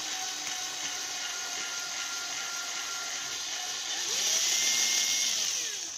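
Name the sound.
drill with 1 mm bit drilling a hole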